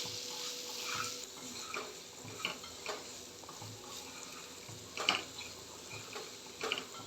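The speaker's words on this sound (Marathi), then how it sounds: "फोडी परतून घ्यायची आहे। सगळ्या फोडींना फोडणी मस्तपैकी लागली पाहिजे।" Raw mango pieces sautéing in hot tempering oil for a traditional methamba, a soft steady sizzle with intermittent scraping stir strokes and light clinks of the spatula against the pan, close and moderately quiet with no talking.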